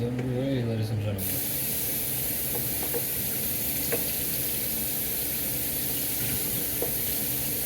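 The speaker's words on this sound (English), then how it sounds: "Frying is underway, ladies and gentlemen." Steady, loud hiss and sizzle of chicken frying in hot oil, continuous throughout with a few faint clicks.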